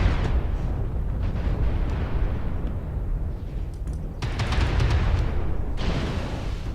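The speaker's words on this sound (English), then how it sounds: "Airstrike activated." Airstrike explosions in the Mechwarrior Online video game rumble and crack in a dense, continuous barrage, with sharper bursts of blasts near the end, loud throughout.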